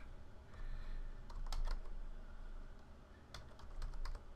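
Keys tapped on a computer keyboard while entering a Minecraft game-mode command, a few soft clustered clicks in short bursts against a low room hum, close and fairly quiet.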